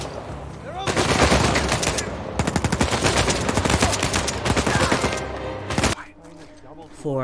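Rapid bursts of video-game gunfire, dense and continuous for several seconds while shots are landed from a rope hang, then cutting off abruptly before a brief pause and a short tail.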